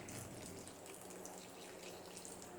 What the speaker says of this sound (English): I'm just going to put this hot brine over these cold peppers.